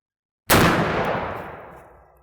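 A 20 gauge Davide Pedersoli Howdah Hunter black powder shotgun pistol loaded with shot fires one loud, close blast that booms and rolls away in a long fading tail outdoors.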